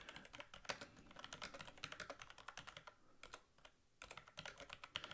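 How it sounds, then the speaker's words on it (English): Rapid, clacky keystrokes on a loud keyboard, typed in quick uneven bursts with a short pause midway, close and dry. "I know I have a loud keyboard"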